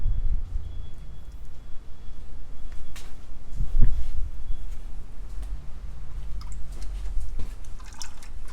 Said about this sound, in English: We'll let it drain as much as we can here, and then we'll put the drain plug.